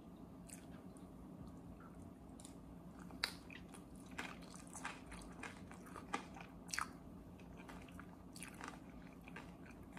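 Seasoned acorn jelly salad is chewed close to the mic, soft squishy bites and occasional crisp clicks scattered over a steady low background hum.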